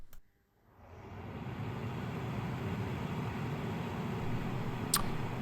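Russell Hobbs RHDH1001 dehumidifier with a 2.1-litre tank, starting up and settling into a steady broadband whooshing hum of fan and airflow, fairly quiet and even, with a small click near the end.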